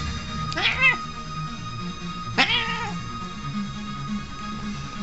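A house cat gives two drawn-out, wavering meows a couple of seconds apart, close and clear, while people chat and laugh in the room around it.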